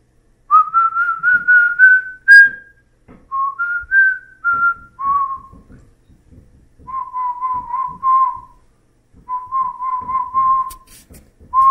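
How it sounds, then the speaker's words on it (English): A person whistles a bright, clear tune in several short phrases separated by brief pauses, close and alone with only faint background sounds. "more than one person whistles this tune to you when they're talking about your truck"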